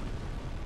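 Fire Tempest attack from the Bed of Chaos boss in Dark Souls: a brief, dense roaring fiery rumble, steady and loud throughout, with a heavy low-end eruption-like texture and no talk.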